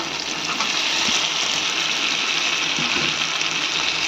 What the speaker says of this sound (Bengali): এবার এর মধ্যে আমি দিয়ে দেব এই পটল ভাজা আর আলু যেটা আমি ভেজে রেখেছিলাম।